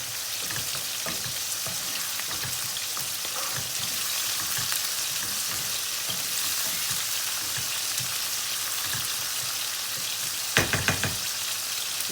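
Three small bay leaves sizzle in hot oil for a Bengali fish curry, a steady close-up frying hiss that runs throughout, with a few soft knocks and stirring clatter near the end.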